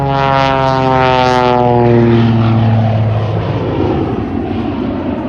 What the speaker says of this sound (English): Hear the jet engine coming in.